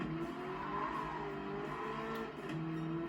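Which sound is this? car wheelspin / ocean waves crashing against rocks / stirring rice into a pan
car wheelspin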